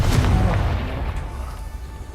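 A Confringo spell blast goes off in the Hogwarts Legacy video game: one loud, deep boom that rumbles and slowly fades over about two seconds, with no voices.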